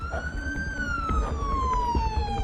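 A police siren wails steadily with a slowly falling pitch, loud and near, over a low rumble of traffic.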